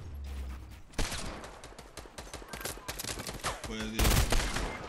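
Rapid bursts of gunfire from a Fortnite match crackle through most of the five seconds, loud and dense, with a heavier volley near the end and a brief spoken question over the shots.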